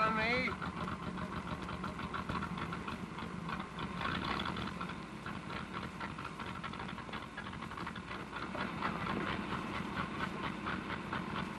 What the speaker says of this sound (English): This engine sure is missing.